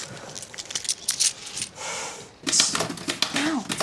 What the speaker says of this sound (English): What's the point in typing all this out?